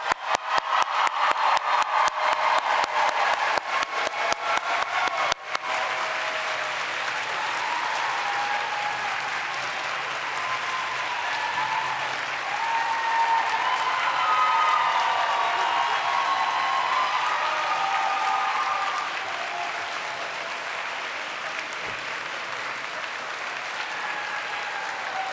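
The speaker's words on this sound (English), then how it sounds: "And a big round of applause for the BFA class of 2024." Big, sustained applause at an art and design college commencement for the graduating BFA class, a broad wash of clapping from a large crowd that thins slightly toward the end.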